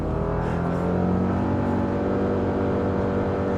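A 2024 Subaru Crosstrek Sport pulls hard from a standstill toward 60 mph on a short road, engine droning loud and steady from inside the cabin with a rising hum and no talk.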